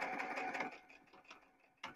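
Sewing machine running briefly over a fiberfill-stuffed fabric hug, a faint mechanical whir that fades after under a second, followed by soft clicks and a short final burst.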